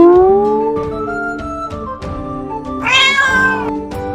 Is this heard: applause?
no